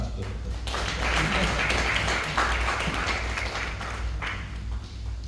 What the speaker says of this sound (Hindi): आप ताली मार सकते हो।